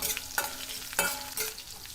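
Chopped green chillies and grated ginger sauté in hot oil for upma. A soft steady sizzle runs under a few clear scrapes of a spoon stirring the pan, with no voices.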